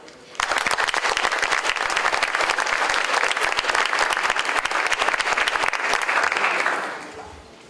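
A school audience applauds scholarship students with steady, dense clapping that fills the room for about seven seconds before tapering off at the end.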